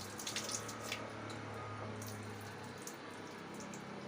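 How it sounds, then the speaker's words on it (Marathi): Water runs off soaked kurdai as it is drained, a steady close trickle and splash like a tap pouring into a sink, fairly faint with a low hum beneath. "आणि मग याचं आपण पाणी काढून टाकणार"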